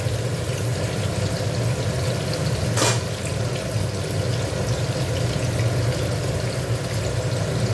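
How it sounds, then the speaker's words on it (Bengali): Potato and pumpkin fry in hot oil in a wok, giving a steady, close, dense sizzle throughout, with one brief sharp scrape or clatter partway through. "আলু আর কুমড়োটা একটু ভেজে নিচ্ছি"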